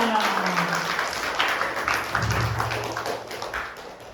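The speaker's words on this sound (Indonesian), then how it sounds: "Tepuk tangan dulu untuk Habibah." Audience applause at an Islamic lecture tour event in Sangatta, East Kalimantan: a steady wash of clapping lasting a few seconds, mixed with murmuring voices.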